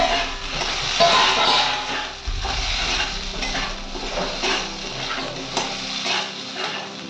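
Potatoes frying in oil in a kadai and stirred with a metal spoon, steady sizzling under repeated scraping strokes against the pan, close and fairly loud.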